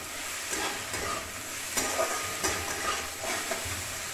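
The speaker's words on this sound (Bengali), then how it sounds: "দিয়ে একসাথে ভাজা হতে লাগবে।" Capsicum, beans and green chillies fry together in a pan with a steady sizzle, broken by several scraping stirs of the spoon, close and without talk.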